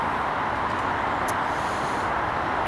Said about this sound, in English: I apologise if there's too much background noise from all the traffic in the distance.